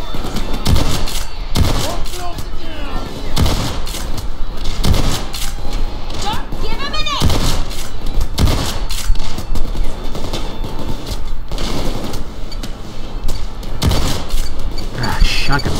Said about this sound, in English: Let's see how the shotgun works